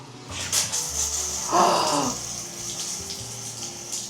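A newly installed tap runs, letting a steady, close rush of water splash into a basin, swelling briefly partway through and then settling, with no one speaking.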